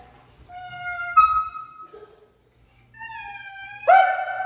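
A child imitates a cat, producing two drawn-out, rising and falling meows separated by a short pause, close and fairly loud against a quiet background.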